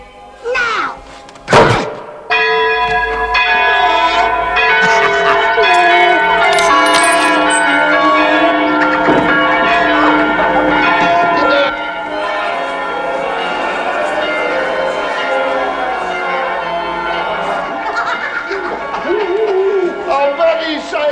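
Church bells ring out in a loud, sustained peal with overlapping strikes, preceded by a couple of sharp thuds and accompanied by voices.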